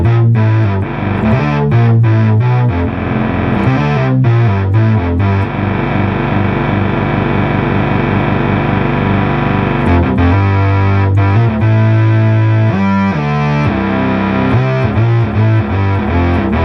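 Restored, formerly fire-damaged Moog Micromoog analog synthesizer played loud and close, a thick buzzing distorted-sounding bass line with sustained notes and rhythmic pulses, no talking.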